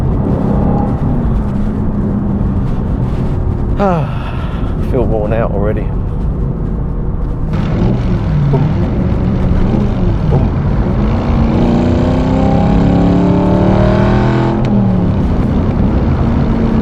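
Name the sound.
CTR Aston Martin V8 Vantage engine revving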